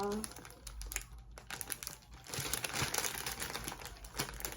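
Crinkly plastic packaging for a Daiso Halloween costume cape rustles and tears near the mic in bursts, with someone speaking now and then over the handling noise.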